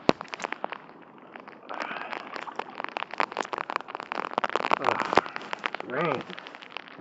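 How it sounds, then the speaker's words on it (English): Rain patters and crackles in uneven bursts on a boat during a fishing trip on Mosquito Lagoon, close and fairly loud, with sharp drop hits and a brief whistling sound near the end. "Oh, rain."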